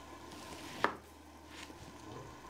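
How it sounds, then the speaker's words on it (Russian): A kitchen knife slices a lemon into wedges, giving a single crisp cut against a board close up, followed by quiet handling. "можешь разрезать лимон дольками"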